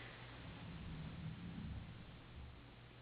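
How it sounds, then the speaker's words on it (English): Low thunder from a Florida summer storm rolls in a long, deep rumble, distant and muffled, swelling and fading over steady rain-like background noise. "it is thundering again"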